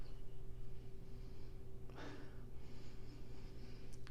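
A single short nasal sniff close to the microphone, set against a steady low background hum.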